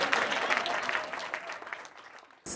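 Audience at a government SME portal launch applauds, a fairly dense crowd clapping that gradually thins and fades before a brief new sound cuts in at the end.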